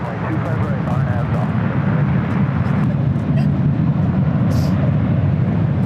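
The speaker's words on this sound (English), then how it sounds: "United 777-200 coming in from Honolulu, flight 1169." A United Boeing 777-200 heavy jet arriving at LAX from Honolulu, a steady loud roar of engine noise that stays constant throughout, with a voice talking over it.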